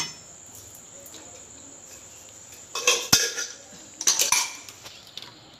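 Water and food being washed in a metal pot during home cooking, with clattering and scraping metal clinks bunched near the end over a steady background of chirping insects.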